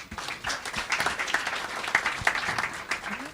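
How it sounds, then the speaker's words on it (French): Audience applause at a conference talk, a steady patter of clapping from a modest crowd, close and continuous with a few sharper individual claps standing out. "Donc vous pouvez même l'applaudir."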